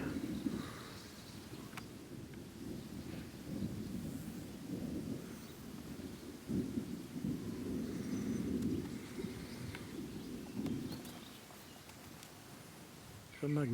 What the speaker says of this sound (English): Some rumbling thunder's moving in.